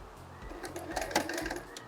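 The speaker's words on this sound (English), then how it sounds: "So with this, I'm going to use a back stitch" A sewing machine runs steadily while back-stitching a bag lining made of the same fabric as the bag's outer part, a close, even mechanical whir with a faint rhythmic ticking throughout.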